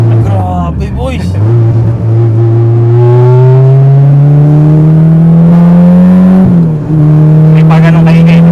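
A Honda Integra with a VTEC K-series engine swap revs hard while driving. Its loud, steady engine note climbs in pitch for several seconds, dips briefly at a gear change, then carries on, close and continuous.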